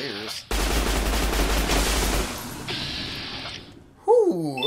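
Gunfire in Fallout: New Vegas plays as a dense, sustained burst of rapid shots lasting about two seconds, followed by quieter rattling noise, with a voice briefly heard at the start and end.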